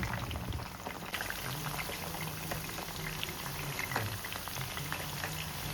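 Garlic frying in oil in a pan for a spicy garlic chili powder with broad beans, sizzling in a dense, steady bubbling hiss as it is stirred until golden. It is close and continuous, with no voices.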